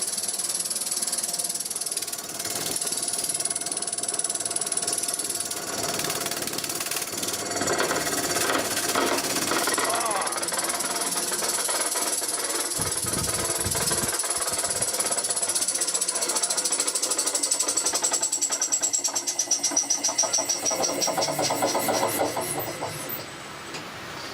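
An electric motor driven by an Invertek VFD, running up toward 100 Hz, gives a continuous buzzing, whining drone with rattling mechanical texture for the whole stretch.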